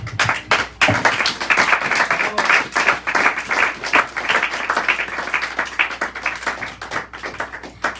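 Congregation in a church clapping together during a Sunday service, dense close applause with a rhythmic beat throughout, a few voices mixed in.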